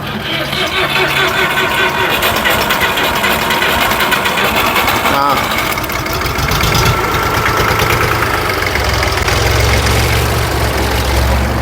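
The three-cylinder 28-horsepower diesel engine of an Iseki TS2500 tractor idles loudly and close by with a steady rough knocking chug throughout, while someone talks over it.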